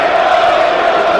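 Football crowd at Notts County versus AFC Wimbledon, a broad roar of massed voices rising in a sustained cheer, loud and continuous across a brief moment with no distinct individual calls.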